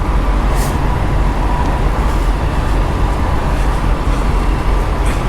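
Steady, loud rumble of idling trucks and road traffic at the Iowa 80 Truckstop, with a couple of brief hissing bursts like air brakes; no voices.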